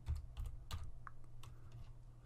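Fingers type a short command on a computer keyboard to open the command prompt, a quick burst of close, distinct key clicks followed by a few lighter, spaced taps.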